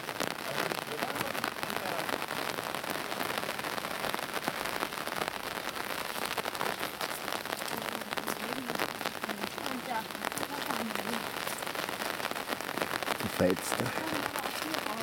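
Rain falling steadily around a castle tower, a dense, even patter of drops on surfaces continuing throughout at a moderate level, with faint background sounds.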